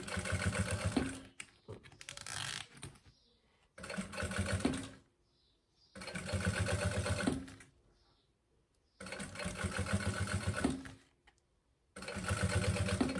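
A sewing machine stitching a maternity bag strap runs in four loud bursts of rapid mechanical whirring, separated by short quiet pauses with small handling clicks.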